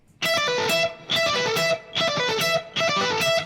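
Distorted electric guitar plays a repeating rock lick in four loud, sustained bursts with brief gaps between them, played alone with no talk.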